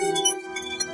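Glasses clink together in a toast at a skewer-and-drinks gathering, a bright ringing tone that sustains through the second with a second light chime near the end, no speech over it.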